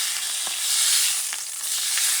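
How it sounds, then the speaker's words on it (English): A steak hits hot avocado or canola oil, a loud, dense hiss of sizzling with a few spits and pops, close up and unbroken for the whole stretch. "Drop your steak and don't touch it"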